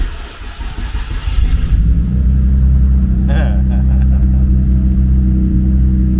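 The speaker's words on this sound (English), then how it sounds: "Let's hear how it sounds from inside the car." A Nissan Skyline GTR engine heard from inside the cabin starts up and settles into a loud, steady low rumbling idle that continues throughout, with people talking over it.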